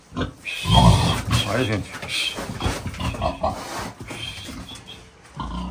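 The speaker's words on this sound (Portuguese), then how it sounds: "Dá gosto de ver os porcos, hein?" Fat pigs in a pen grunt and snort repeatedly at close range, with a person speaking briefly among the animal noises.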